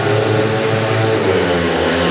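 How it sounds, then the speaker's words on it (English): Several speedway motorcycles rev their engines together at the start line of a race, a loud sustained droning roar with rising pitch and no gaps. "There we go, engine noise rises"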